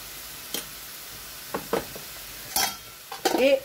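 Onion-tomato masala paste frying in oil in a pan for egg curry, stirred with a utensil in a few short scraping bursts over a quiet sizzle.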